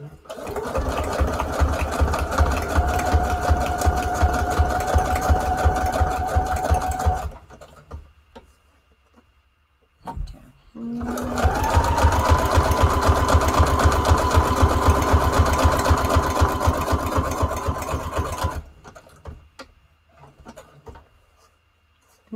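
Sewing machine stitching junk journal tags in two long, steady runs of rapid needle chatter with a motor hum, close and loud, separated by a short pause and followed by quiet handling sounds.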